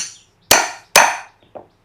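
Sharp hammer-like strikes as holes are punched in handwoven water hyacinth wickerwork at a Thai craft village, three loud impacts each ringing briefly before fading, then a fainter fourth knock, with no talking.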